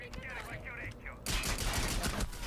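Rapid bursts of gunfire from the Rainbow Six video game, with sharp repeated shots dense in the second half under Italian commentary from a player.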